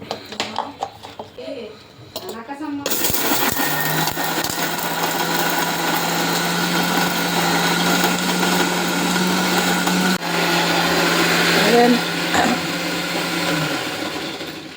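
An electric mixer grinds spices and roasted onion for fish curry, a loud steady whirring drone running for about eleven seconds after a few clattering knocks, easing off near the end.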